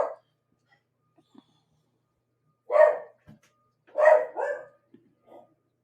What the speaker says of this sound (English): I'm sorry, my dog's mental